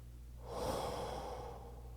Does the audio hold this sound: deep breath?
yes